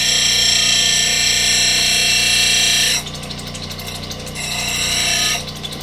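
A Highland Park SM1 shaping machine cleans up the bottom of a disc: a steady, loud, high-pitched grinding whine that drops in intensity twice as contact eases, then swells again, with the motor droning underneath and no speech.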